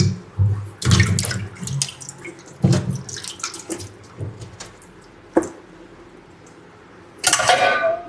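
Tap water splashing while tomatoes are rinsed in a sink, heard as intermittent bursts of running and spattering water with short gaps, small knocks and drips, close and clear.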